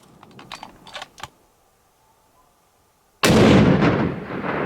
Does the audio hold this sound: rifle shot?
yes